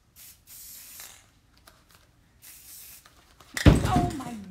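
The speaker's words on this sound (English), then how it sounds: "So I just kind of spray the blue around there." A can of blue spray paint hisses in short bursts onto a tumbler, the sprays separated by brief pauses. Toward the end a loud, close clatter of handling noise covers them.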